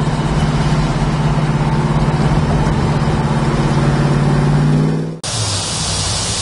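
A 1970 Chevrolet Chevelle SS396 V8 engine rumbles steadily and loudly while driving, a deep continuous drone that cuts off abruptly near the end before settling into a lower idle.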